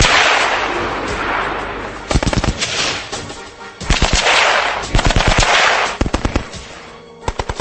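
Rounds from a Gatling or Maxim machine gun striking a tree, delivered in loud, rapid bursts of sharp cracks separated by brief pauses, close and alone.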